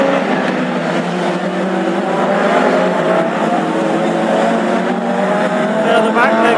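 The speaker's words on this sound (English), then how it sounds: "Further back there goes Trevor Cusack at 12, Trevor Harris, Damien Corrigan, 44 Cara Boy" Classic hot rod race cars roar around the Lochgelly oval during a heat, with a continuous loud engine drone running under a commentator's voice.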